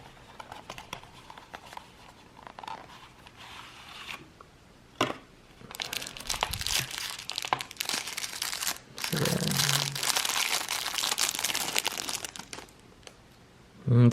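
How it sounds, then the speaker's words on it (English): Packaging crinkles and crunches while a Parker barber safety razor is unboxed, with intermittent rustling and tearing bursts, louder stretches of handling, close and unvoiced. "let's unbox it and put it together"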